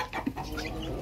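A few soft, scattered clucks from a chicken at close range, brief and irregular over a quiet background.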